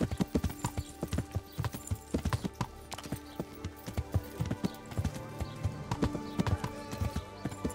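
Horse hooves clip-clop in a steady walking rhythm in the video game Kingdom Come: Deliverance, fairly close, with a faint murmur of game ambience behind them.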